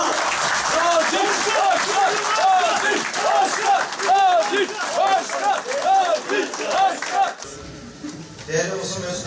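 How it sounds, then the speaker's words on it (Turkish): Standing applause for a mayoral candidate at a Yeniden Refah Partisi campaign event in Denizli: a large crowd claps steadily with cheers and chatter mixed in, loud and sustained, thinning near the end. "Denizli Büyükşehir Belediye Başkanı adayımızı ayakta alkışlayarak"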